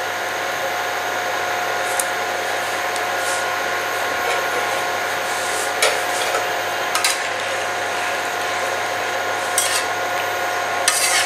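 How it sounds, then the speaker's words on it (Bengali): Dal being stirred in a pan with turmeric and jaggery, a steady scraping and shuffling texture that runs throughout at moderate level, with a few brief sharper knocks against the pan. "ভালো করে নাড়াচাড়া করে দিই"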